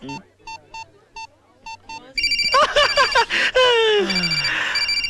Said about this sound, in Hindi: मर गया मेरी बीवी का फोन